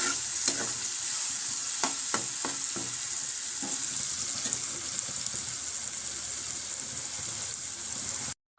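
Grated sour mango stirred and cooking in a pan on the stove, a steady broadband sizzle with occasional scraping stir strokes, close and continuous with no talk.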